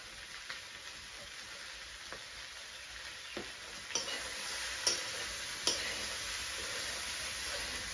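Meat frying with taro flowers in a pan, a steady soft sizzle that continues throughout, with a few faint clicks and stirring taps.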